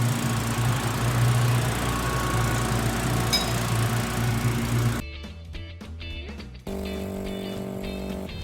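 A vehicle engine idles with the heater fan running full blast, a steady close hum and airy whoosh that shifts level partway through as the tone changes, with no talking.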